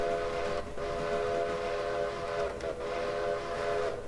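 A quillable steam locomotive whistle in the train game Railroader sounds a long, sustained chord, briefly dipping twice as the quilling shifts its tone, over a steady background rumble.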